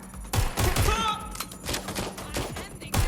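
Gunfire in the video game Watch Dogs: Legion, with several sharp shots and bursts spread across a few seconds amid game sounds and voices, moderately loud.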